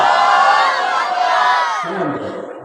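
A large crowd at a religious gathering in Comilla roars a takbir chant in unison, a loud sustained shout of many voices that fades out after about two seconds.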